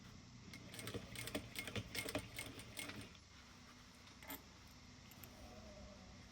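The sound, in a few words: sewing machine basting and back stitching a wallet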